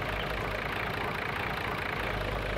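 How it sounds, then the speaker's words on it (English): A Güldner 75A tractor idles in Farming Simulator 19, its engine giving a steady, close, even rumble with a dense mid-range drone and no change in pace. "it is a very nicely modeled out tractor"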